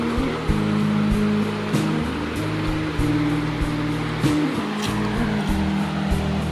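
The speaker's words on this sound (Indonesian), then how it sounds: "Inilah Sungai Bengkoka Ulu." The Bengkoka Ulu river in Kota Marudu, Sabah, running deep and swift, gives a steady close rushing wash of water, with intermittent low knocks and rumbles throughout.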